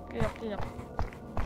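Footsteps in the VRChat game Infested, four or so evenly spaced steps close by, soft thumps mixed under a talking voice.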